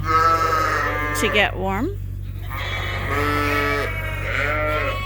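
Sheep and lambs bleating inside a sunny barn, several overlapping bleats near and loud over a steady low hum, while a person talks briefly among them.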